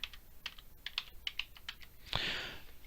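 Keys clack in an irregular run of separate taps on a computer keyboard while a password is typed, followed by a louder, longer rustle or click near the end.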